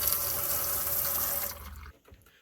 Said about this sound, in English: We have the water working so we can turn the water on and wash our hands.